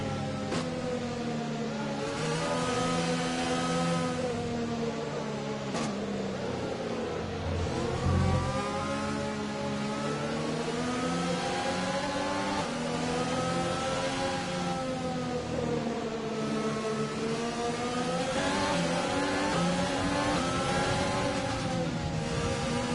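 A Jaguar Formula 1 race car in F1 2020 at the Austrian circuit, its high-pitched engine screaming steadily and rising and falling through gear changes as it accelerates after a safety car restart, loud and continuous.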